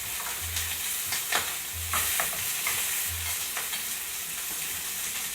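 Shrimp and pumpkin seeds frying in a pan give a steady, close sizzle, with a few soft stirring clicks and low thumps scattered through it.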